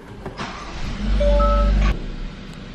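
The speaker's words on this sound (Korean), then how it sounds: "시동을 켜줍니다" A short electronic beep is followed by a Hyundai Tucson engine cranking and catching, settling into a low idle hum.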